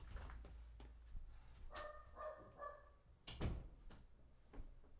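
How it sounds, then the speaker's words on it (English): Dogs barking in the background, a few short sharp barks around the middle of the clip, faint to moderate over a quiet room with a door-like bump. "I'm in the middle of a segment and I got dogs barking."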